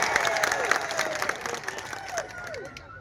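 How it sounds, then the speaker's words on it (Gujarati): A crowd at a political rally in Kavant, Gujarat applauds and cheers to welcome a speaker, a dense, steady burst of clapping with shouts that gradually thins near the end. "આપણે એમને જોરદાર તાળીઓના ગણગણાટથી એમનું સ્વાગત કરી લઈએ"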